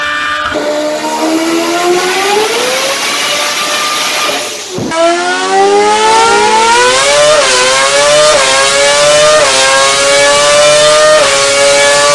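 A Formula One V8 on a dyno screams up toward 18,000 RPM in two loud, rising sweeps with a brief dip between them, alone without voices.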